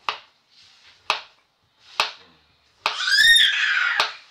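A child lets out a loud, shrill scream that lasts about a second, set among sharp clacks of chopping vegetables for a wok dish in a home kitchen.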